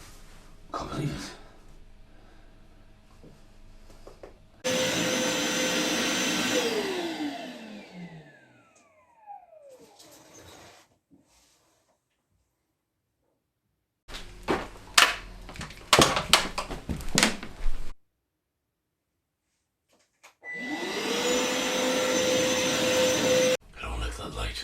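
A Hoover vacuum cleaner roars loudly nearby, winds down with a falling pitch, and goes quiet. Clattering bumps and handling knocks follow before the motor starts up again and rises to a steady whine.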